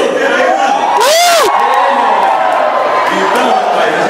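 A live crowd of single people at a music show shouts and cheers loudly, with whoops and a rising yell standing out from the close, continuous roar.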